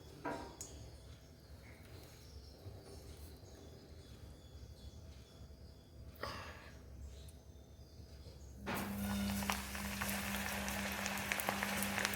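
Okra pieces dropped into hot oil on a low flame, a steady hiss that jumps to a louder, brighter bubbling sizzle partway through, with faint clinks earlier.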